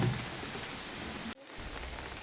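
Rain falling steadily across a wet surface on a monsoon morning, a dense, even hiss that cuts out abruptly for a split second before resuming just as strong.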